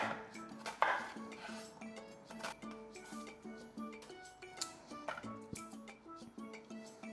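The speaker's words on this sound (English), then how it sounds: "Now the onion I'm just gonna chop roughly as well." Knife chopping an onion roughly on a board for a grilled tomato and red pepper soup, giving a run of quick, fairly close knocks and clicks with a sharp clatter near the start, no talking.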